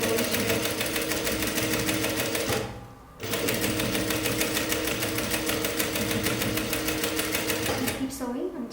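A sewing machine stitches a ruffle on a square-neck top with puffy sleeves, running in a fast, steady mechanical patter up close, pausing briefly near three seconds before resuming at the same pace.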